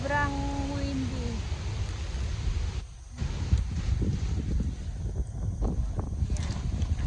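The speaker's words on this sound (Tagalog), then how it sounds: "Sobrang windy." Strong wind buffets the microphone by the river at Lockport, Manitoba, a steady low roar that runs the whole time, with brief voices and faint bird-like tones early on.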